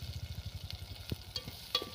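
Ground masala paste from a stone mortar frying in oil for a jackfruit vegetable dish, a soft, quiet sizzle with rhythmic stirring scrapes and a few sharper clinks of a utensil against the pan.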